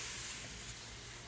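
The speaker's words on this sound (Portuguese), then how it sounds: "Vamos agora aqui acrescentar aqui os ovos que já estavam batidos aqui na frigideira" Beaten eggs hit a hot frying pan with oil, giving a faint, steady hiss and sizzle that holds evenly through the short moment, with no voices.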